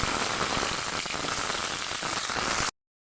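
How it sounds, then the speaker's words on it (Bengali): Potatoes frying in hot oil for a Bengali home-style mutton dish, a dense, steady sizzling crackle close up that runs evenly, then cuts off abruptly. "আলুটা দিয়ে দিলাম তেলের মধ্যে।"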